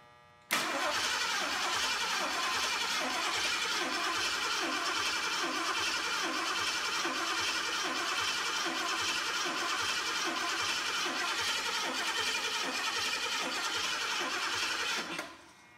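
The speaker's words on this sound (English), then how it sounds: "To try to crank this to get fuel from our makeshift fuel tank up through the fuel pump to here so that we can prime our carburetor." An old motorcycle engine is cranked over by its starter to prime the carburetor through the fuel pump from a makeshift tank. The engine does not fire. A steady, even whirring grind starts abruptly and holds for about fifteen seconds, then cuts off.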